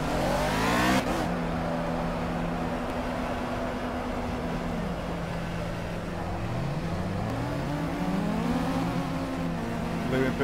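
A race car in the Project Cars racing game accelerates out of the pits at Spa-Francorchamps, its engine note climbing repeatedly through the gears over a steady, fairly loud drone.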